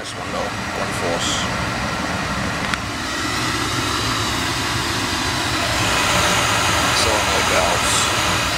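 A repaired, formerly leaking circulator pump runs with a steady, broadband mechanical hum and rumble, close and fairly loud, with faint clicks and a slight swell toward the end.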